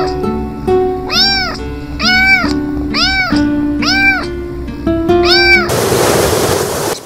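A cat meows six times in a steady, evenly spaced series of loud, drawn-out calls close by, then a burst of broad rushing noise takes over at the end.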